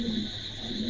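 A Spanish Gorgoria pouter pigeon coos softly over a steady low hum, with a brief murmuring call near the start and again at the end.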